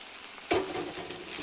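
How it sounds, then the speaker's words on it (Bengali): Boiled chow mein sizzles in a pan with already-fried potato, onion and egg, a steady frying hiss that jumps with a sudden stir or toss partway through and then settles back to a continuous crackle. "সেদ্ধ করা চাউমিনটা ঢেলে দিয়েছি, এবার ভালো করে নাড়িয়ে চাড়িয়ে ভেজে।"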